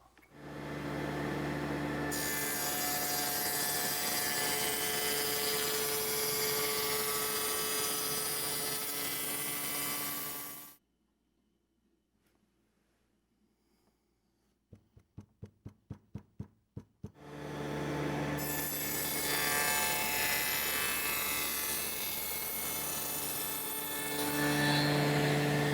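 An angle grinder converted into a sliding cutoff saw runs with a loud, steady high whine for about ten seconds. A quiet gap with a quick run of sharp clicks follows, then the whine starts again and holds to the end.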